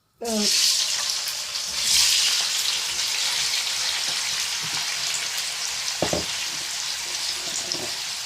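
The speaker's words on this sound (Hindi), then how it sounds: "और अब जो है मैं इस फिश को जो है वो डाल के इसको मैं फ्राई कर लूँगी" Fish pieces dropped into heated oil for a masala fish curry burst into a loud sizzle, then settle into steady close frying with small clinks and stirring noises, no voices.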